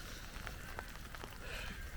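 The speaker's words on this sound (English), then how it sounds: "So show day, we got rain everywhere." Rain falls steadily across an outdoor showground on show day, a soft, continuous hiss with a few distinct drops tapping on nearby surfaces.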